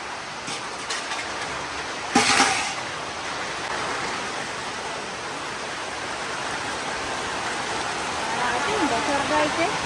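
Steady rain hisses throughout, a dense even wash of drops, with a brief louder burst near the start and faint voices underneath.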